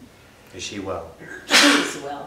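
A sharp, loud sneeze bursts out right after a brief stretch of someone talking.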